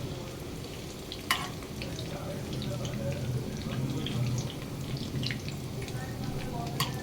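Brinjal pieces fry in hot oil in a pan, a steady low sizzle running the whole time with a few faint clinks and scrapes on top, all fairly quiet.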